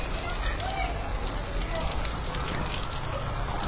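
Heavy rain pours in Karelibaug, Vadodara, making a continuous dense patter and hiss with scattered drop impacts, while a voice talks over it.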